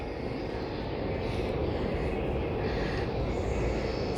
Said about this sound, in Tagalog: tara, silipin natin yung eroplano natin.